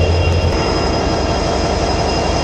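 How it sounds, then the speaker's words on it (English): Union Pacific freight train with locomotives rolling past close by, a loud, steady rumble of wheels and engines that fills the whole stretch without a break. "Okay then, I have another train coming."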